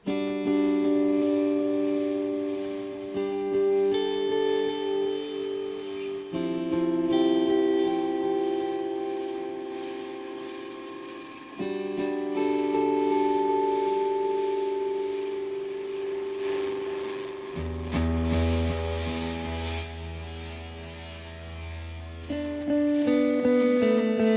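Synth-like melodic notes processed through the gritty lo-fi delay mode of a Boss DD-200 digital delay pedal, repeats trailing behind each phrase with a crunchy 8-bit character; no voices.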